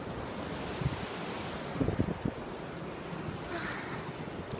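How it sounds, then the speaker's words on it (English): Waves washing on a beach surround someone walking through the surf, a steady broadband wash with a few louder splashes near the middle and wind rumble on the microphone throughout. "I am on the beach now. Walking through the waves."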